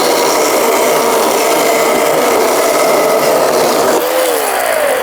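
Ryobi 18V 12-inch cordless chainsaw cuts into knotty wood with a loud, steady high-pitched whine and chain rasp, dipping in pitch briefly near the end as the load changes.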